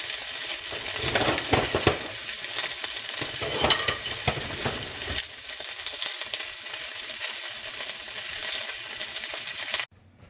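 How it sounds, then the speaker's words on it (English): Salmon fillet sears in a hot pan with a loud, continuous sizzle and crackle, stirred now and then with brief scrapes, close and steady until it cuts off abruptly. "Okay, so the salmon has been seared."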